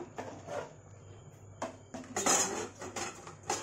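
Partly cooked chicken biryani is scooped from one pot into a kadhai, producing a run of metal ladle scrapes and clanks against the cookware, loudest in several sharp knocks near the end.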